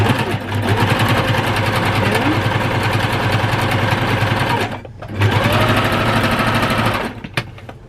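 A sewing machine stitches a quilt block seam for a sawtooth star, running loud and steady with a rapid mechanical chatter. It pauses briefly near the middle, resumes, then stops toward the end.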